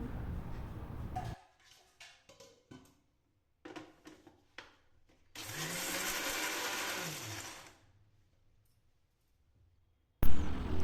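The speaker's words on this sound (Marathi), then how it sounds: "आता दुसरी बॅच पण मी अशीच मिक्सरमधनं फिरवून घेणार आहे, एकदम बारीक पावडर करून" A kitchen mixer grinder milling oats into fine powder for sugar-free laddus. Its whirring motor starts and stops in short pulses, then runs in one steady, loud, close grind of a couple of seconds before cutting out.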